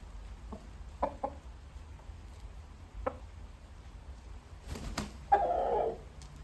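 A rooster sheltering on a porch from the rain gives a few short, separate clucks, then a louder, longer crow-like call near the end, against a steady low rumble of rain.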